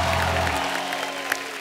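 Audience applause on a comedy stage as a singer is welcomed, a thin spread of clapping that trails off beneath a low humming tone fading out early, with one sharper clap near the end.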